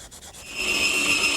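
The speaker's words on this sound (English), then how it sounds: "A little hand sanding will clean up those areas." Short burst of abrasive hand sanding on wood, a soft scratchy friction sound that rises after a brief quieter start and continues steadily, close up.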